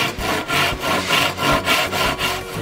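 A handsaw cuts through a Playdeck board in steady back-and-forth strokes, a close, rhythmic rasping with about five even pushes and pulls and brief pauses between them.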